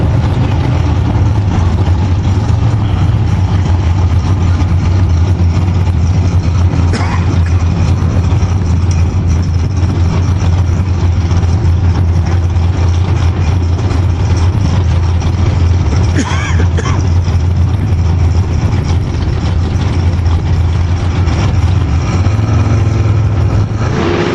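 A first-generation 1967 Chevy Camaro with an alcohol-fired engine drag races with a loud, sustained engine roar throughout, and a commentator's voice is faintly mixed in.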